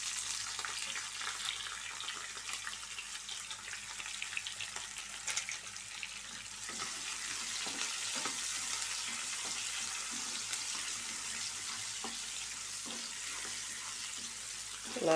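Green chillies sizzle in hot oil in a pan while cooking a Telugu spinach stir-fry, a steady close crackling fry with occasional stirring scrapes and no talking.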